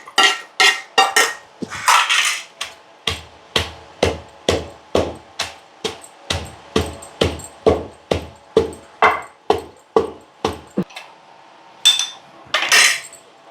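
Garlic cloves, skins still on, are pounded with rock salt in a stone mortar for gongura chutney. A steady series of sharp, close thuds with hard knocking clinks comes roughly twice a second, alone with no talk.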